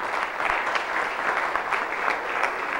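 An audience applauds for Manny Burgos as he is introduced to speak at an event about tourism in Puerto Plata; steady, moderately loud clapping with no talk over it.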